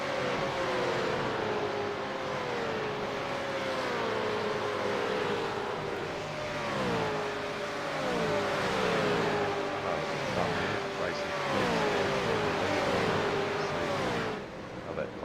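Several V8 Supercars race past at Watkins Glen in a tight pack, engines roaring loudly with rising and falling pitch sweeps as cars pass, continuous over a commentator talking throughout.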